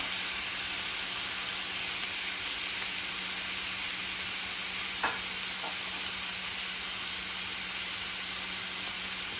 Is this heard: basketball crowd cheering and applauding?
no